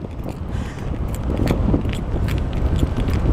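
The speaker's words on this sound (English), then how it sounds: "All you can probably hear is just like wind right now" Wind noise while biking, a loud, continuous low rumble buffeting the microphone, with faint rattles and knocks mixed in and no talk.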